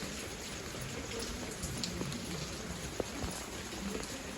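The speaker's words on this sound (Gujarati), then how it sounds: "વરસાદ વધારે ચાલુ થયો" Steady rain patters and hisses at a soft, even level, with scattered individual drops standing out.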